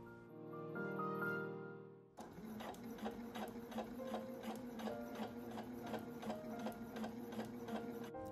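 A Husqvarna Viking Jade 20 electronic sewing machine starts up after a short electronic tone and runs a back stitch, its needle clattering in a quick, even rhythm, close and steady, with no voices.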